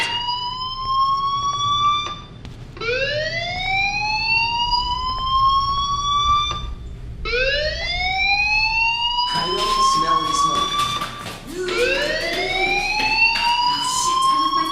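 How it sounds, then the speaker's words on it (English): Rising, sweeping alarm tones from a school fire alarm in the video game Life is Strange, repeating in loud cycles of about four to five seconds, with game background sound and some noise underneath. "do you hear that fire alarm? That means you should be outside."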